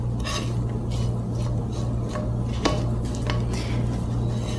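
A spatula scrapes hot homemade caramel from a pan into a bowl, giving soft scattered scrapes and a light clink over a steady low kitchen hum, with no talking.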